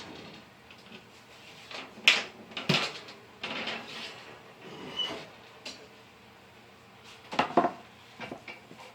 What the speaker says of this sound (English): Well, they're done, so let's get them out of the oven.